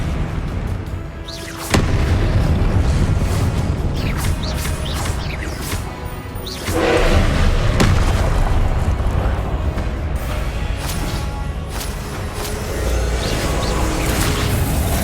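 Spell explosions from the Confringo fire curse in Hogwarts Legacy, heard as loud, dense blasts and crashing impacts amid ongoing combat noise across the whole stretch, with a couple of sharp bursts standing out.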